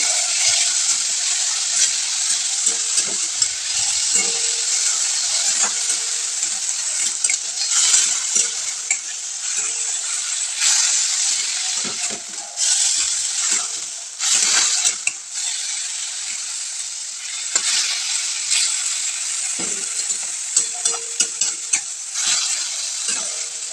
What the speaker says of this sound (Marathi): आपण चिरून घेतलेली पालक आहे ती ॲड करायची आणि ती तेलामध्ये छान अशी तळून घ्यायची